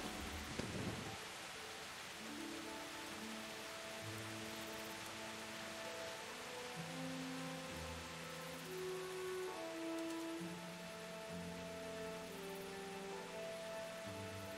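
Steady rain falls with occasional thunder in the medieval open world of Kingdom Come Deliverance, a dense continuous hiss lasting throughout while soft musical tones drift underneath, with no voices.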